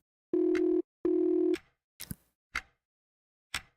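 Phone number dialed in the Coffin of Andy and Leyley video game: two long steady dial-tone bursts followed by three short separated keypad beeps, crisp and close with silence between, no talk.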